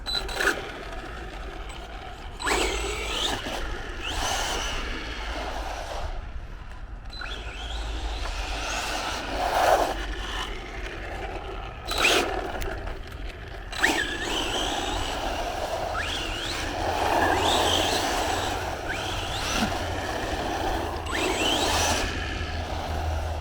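Arrma Vorteks RC car on its first run, electric motor whining and revving in bursts as it speeds and turns, moderately distant, with gravelly tire noise throughout.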